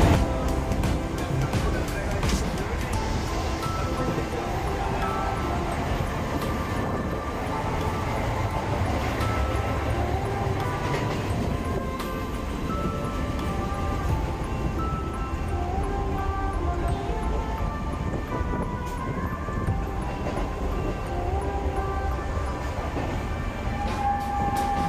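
A Siuri–Sealdah MEMU train running between stops, a steady loud rumble with rhythmic rattling and wheel noise heard from inside the carriage, continuous throughout with faint voices in the background.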